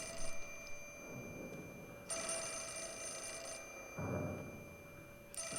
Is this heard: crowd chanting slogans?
no